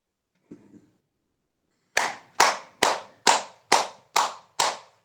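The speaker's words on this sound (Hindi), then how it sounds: "अब हम करेंगे थोड़ा सा तालियों का अभ्यास" Eight sharp, evenly spaced hand claps ring out loud and close during a yoga session's clapping practice, following a brief faint rustle and a pause of near silence.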